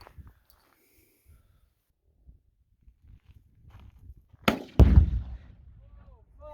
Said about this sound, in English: Today we're going to be shooting 8 pounds of Tannerite with a sporterized Springfield 1903 with tracer rounds from World War II.